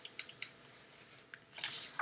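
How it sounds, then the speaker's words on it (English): Scissors snip close by in a few quick, crisp cuts near the start, followed by quieter handling and a light rustle, with no talking. "So I grab my scissors."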